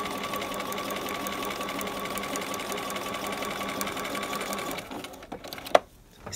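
A sewing machine running a steady rapid stitch while sewing piping around a corner, close and continuous, then stopping with a brief clunk near the end.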